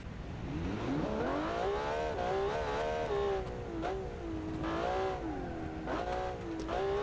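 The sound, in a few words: car engine revving in BeamNG video game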